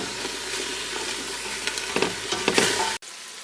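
Vegetables and garlic saute in a pan with a steady close sizzle and hiss, punctuated by scraping stirs before cutting off abruptly.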